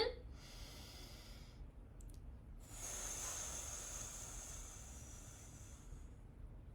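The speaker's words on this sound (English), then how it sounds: "Okay, so you're going to breathe in." A slow, deep inhale during a Schroth method scoliosis breathing exercise, done while pressing against a resistance band; the airy breath swells steadily and holds close to the microphone with no talking over it.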